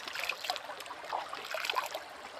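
Running water flows steadily on a farm, a continuous close trickling wash with small splashy bursts throughout, no voices present.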